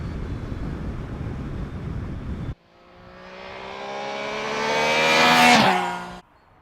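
A 2025 Triumph Trident 660 motorcycle is ridden, first a steady rushing drone, then the three-cylinder engine rising in pitch under hard acceleration, growing louder to a peak before cutting off abruptly.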